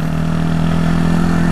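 A motorcycle engine runs steadily at idle just after a jump start, a close, loud, even mechanical hum with a low throbbing pulse.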